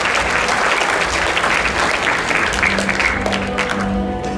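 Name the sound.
audience applause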